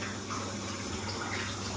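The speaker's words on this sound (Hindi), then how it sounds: "तो अभी अंदर टब में पानी खोलते हैं" Water pours steadily from a tap into a bathtub, a continuous hissing rush at low level with a slight echo, heard alone without talk.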